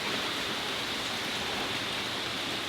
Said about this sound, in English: This is a place where it rains a lot.